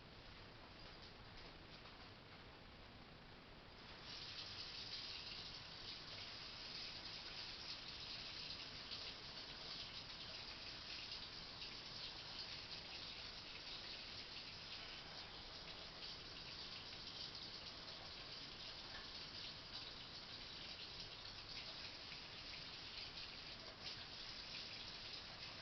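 Water gushes steadily from a tap, a constant hissing rush that grows louder after a few seconds and continues unbroken.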